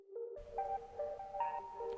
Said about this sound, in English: So we've got a sine wave